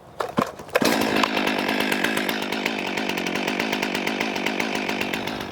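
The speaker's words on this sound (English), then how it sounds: "then you could go ahead and start the saw" A chainsaw is started with a few sharp pull-cord yanks, then catches and runs loud and close with a steady rattling engine drone that slowly eases off.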